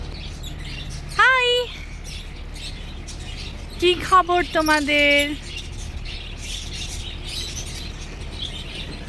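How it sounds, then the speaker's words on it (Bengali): Birds calling in a resort mini zoo aviary, one sharp chirp early on, then a quick cluster of loud tweets, with a person's voice in the background. "যেখানে পাখির ডাক একদম মনে হচ্ছে প্রকৃতির খুব কাছে চলে এসেছি।"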